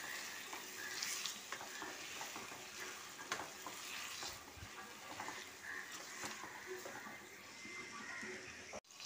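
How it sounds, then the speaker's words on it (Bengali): Chicken in yogurt cooking on a low flame while being stirred, a close wet sizzle with repeated spoon scrapes and knocks against the pan. "এবার অল্প আঁচ করে এটা খালি নাড়তে থাকবো।"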